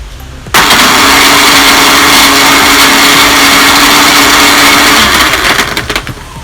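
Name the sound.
blender running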